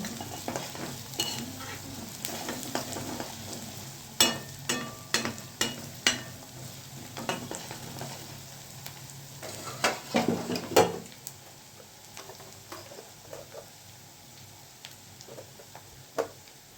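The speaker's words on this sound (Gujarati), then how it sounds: "એટલે આને થોડું ફ્રાય કરવું પડે" Garlic frying in a pan for palak paneer, stirred with a spatula, making a steady close sizzle broken by sharp scrapes and clinks against the pan. No one speaks.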